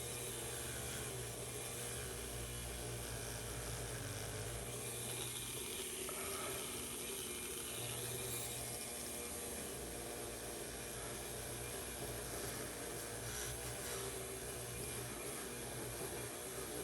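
A Dremel rotary tool grinding chrome guitar hardware, giving a steady whining motor hum with rough grinding texture that holds faint and unbroken throughout, with no one speaking.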